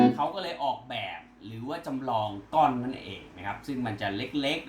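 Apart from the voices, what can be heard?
None of the usual background noises is heard.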